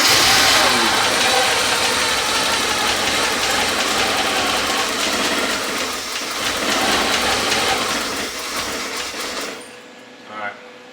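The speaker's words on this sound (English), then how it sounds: "Crank it again." A Porsche 944 engine cranks and then runs with a loud, rough, knocking mid-pitched drone throughout, up close, with voices talking over it before it cuts off near the end.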